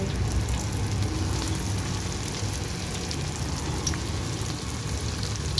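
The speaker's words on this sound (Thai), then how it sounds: "ทอด อีก รอบสองพี่น้องใส่ลงไปเลย" Spring rolls filled with cabbage, glass noodles, shiitake mushrooms and carrot frying in oil, giving a steady dense sizzle with scattered crackles that carries on evenly throughout, no voices.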